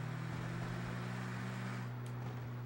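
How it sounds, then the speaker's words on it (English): A vehicle in the video game Mercenaries runs with a lawnmower-like engine, a steady low droning hum held at an even, fairly quiet level throughout. "listen to the sound of that lawnmower engine at work"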